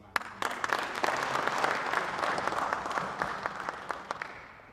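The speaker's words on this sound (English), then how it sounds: "So let us clap for this man." Audience applause for a speaker at an agricultural extension symposium: a steady patter of many hands clapping fills the room, swelling quickly and then gradually thinning out.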